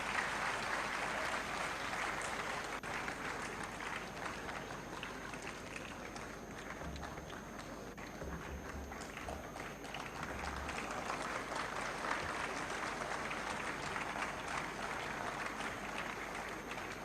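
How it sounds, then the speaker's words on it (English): Sustained, even applause fills the hall as an audience at a university lecture welcomes guests, with many hands clapping together at a constant level and no voices standing out. "So let us welcome with a round of applause to our guests."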